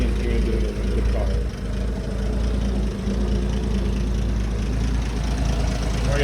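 A restomodded 1961 Toyota FJ40's engine idles steadily in the engine bay with a low, rumbling drone, close by and continuous, with some faint background noise.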